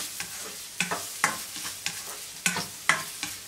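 Ginger sautés in a pan with a soft sizzle while a utensil stirs and scrapes it in regular strokes, each stir a short crisp scrape, close and fairly quiet, with no talking.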